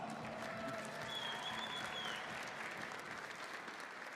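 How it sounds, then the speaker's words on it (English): Sustained audience applause fills a card game championship venue, broad dense clapping at steady loudness throughout, with faint crowd murmur and a brief whistle-like tone partway through. "Let's give them one more round of applause."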